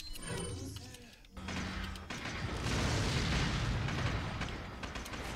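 Incendiary grenade in Resident Evil 4 bursting into a loud, sustained roaring whoosh of flames that swells and fills the second half, after a short stretch of game noise.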